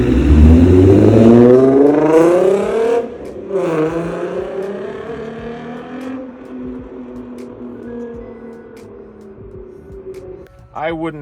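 A manual MK6 with a swapped 3.6L VR6 engine revs hard and then falls away, its pitch climbing and dropping over several seconds, loud and close, ending in a short burst of higher whine.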